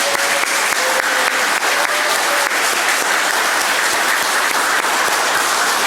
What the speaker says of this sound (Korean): 우리 격려의 박수를 한번 같이 보내주시죠.